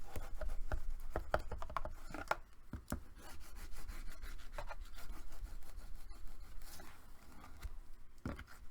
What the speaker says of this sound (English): go ahead and burnish that down real good